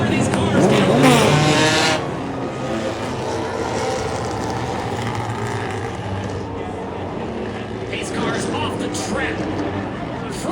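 Race cars roar around a short oval at the Intimidator 100 in Kalamazoo, a loud continuous wash of engine noise with crowd and announcer-style chatter blended in, swelling slightly at the start then holding steady.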